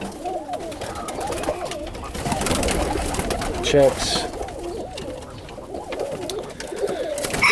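Pigeons coo steadily in a loft holding Italian Owl and blue bar birds, soft repeated throaty calls close by throughout, with someone talking over them.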